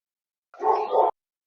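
A dog lets out a single short, close bark, sharp and alone against silence.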